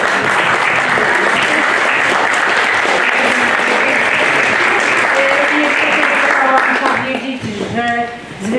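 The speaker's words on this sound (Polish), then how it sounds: "Jeszcze raz oklaskami naszych zwycięzców." Loud, dense audience applause honouring winners of an international piano competition, sustained for several seconds before thinning out near the end as a voice begins to speak.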